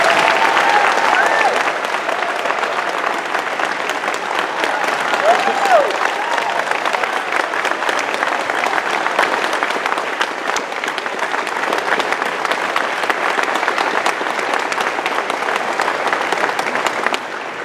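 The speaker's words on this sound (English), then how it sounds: "One more round of applause, please." A crowd at a Hall of Fame induction ceremony claps in long, sustained applause that stays loud and steady, with a few faint voices mixed in.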